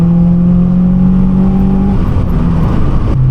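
Car engine revving hard while driving, a loud steady drone climbing in pitch before dropping with a shift near the end, heard alone.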